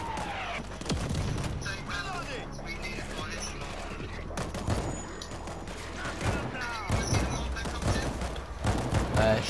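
Mortar fire in World War Z Aftermath: repeated booming thumps and gunfire crackle through a busy game soundscape, with voices talking over the action.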